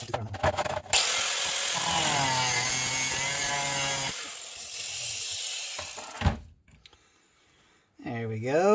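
A power tool cuts away busted parts of a custom exhaust for a vintage Homelite XL12 chainsaw, a loud steady grinding whine running for several seconds, stopping, then a second shorter burst, with a voice briefly heard.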